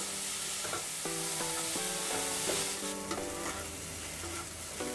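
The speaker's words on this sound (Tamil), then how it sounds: "இப்போ அந்த கேரட்டை நல்லா இதோட மிக்ஸ் பண்ணிக்கலாம்." Carrot for carrot poriyal stirred in a hot pan, with a gentle sizzle and scraping spatula strokes under faint tonal background music, close and quiet, no speech.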